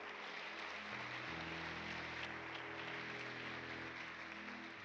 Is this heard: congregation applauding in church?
yes